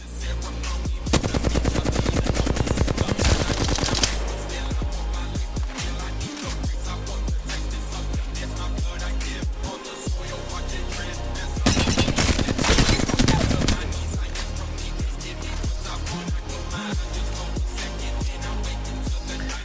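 Automatic weapon fire in the video game Apex Legends, with long rapid bursts and sustained sprays of shots separated by short pauses, loud and close throughout.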